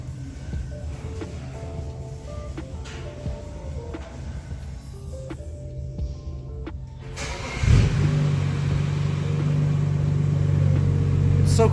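A 2011 BMW with the N55 engine, Stage 3.3 big boost build and custom exhaust, is quiet at first, then fires up partway through and settles into a steady, loud, rumbling idle.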